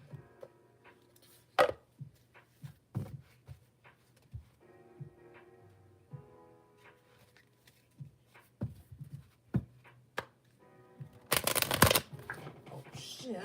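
A deck of tarot cards is shuffled by hand in soft, scattered riffles and taps, with one loud rapid riffle near the end, while someone talks between the shuffles.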